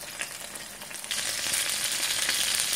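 Chicken pieces fry in a pan, a steady close sizzle that swells louder partway through and keeps crackling to the end.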